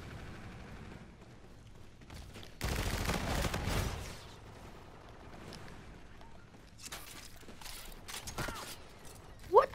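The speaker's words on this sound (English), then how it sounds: "Oh, he sniped me." A sniper rifle shot in Call of Duty: Infinite Warfare free-for-all multiplayer lands as one loud, sharp blast early on, followed by quieter in-game mechanical clatter and background game noise.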